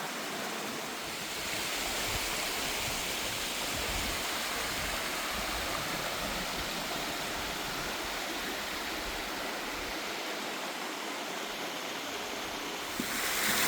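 A creek rushes through a debris field left by Hurricane Helene in western North Carolina. The water makes a loud, steady, broadband roar that fills the whole stretch with no pauses.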